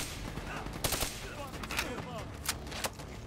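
Gunfire in the Black Ops 3 campaign, with scattered single shots and short bursts cracking at irregular intervals over a noisy battlefield background, fairly faint overall.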